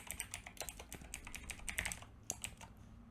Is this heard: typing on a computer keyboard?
yes